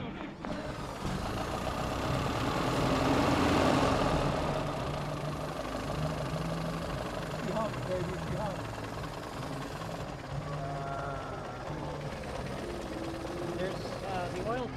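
A vintage Chevrolet 176 cubic inch engine runs at a steady idle, loud and close, rising briefly near the start before settling into an even, continuous drone with a faint mechanical rattle.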